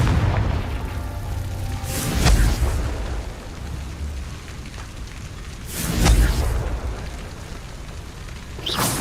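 Confringo blasting spell explosions in Hogwarts Legacy, two loud booming bursts a few seconds apart with a rumbling tail, plus a third starting at the very end over a steady game ambience.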